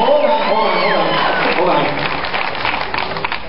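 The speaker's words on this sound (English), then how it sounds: "We elected officials, we like it when you clap for us, but do it at the right time, okay?" A crowd at a political gathering with an elected official claps and cheers, a loud, dense wash of applause with whoops and chatter running steadily throughout.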